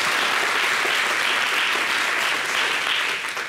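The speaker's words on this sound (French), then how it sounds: "C'est ce qu'on appelle les applaudissements nourris." A television studio audience gives loud, sustained, hearty applause, a dense even roar of clapping that tapers slightly at the end.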